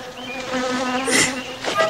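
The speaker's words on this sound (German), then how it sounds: "Pass auf, da ist eine Biene vor deiner Nase." Close, loud buzzing of a bee flying around someone's face outdoors in the mountains, a steady droning whine that swells and wavers in pitch for about two seconds with no talk over it.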